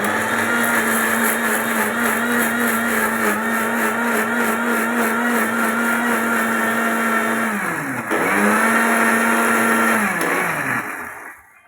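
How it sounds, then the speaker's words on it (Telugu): A mixie grinder blends paneer butter masala paste with a loud, steady motor whine. The pitch dips briefly and recovers near the end, then the motor winds down and stops. "దీన్ని తీసుకొని మిక్సీ పట్టించుకోవాలండి."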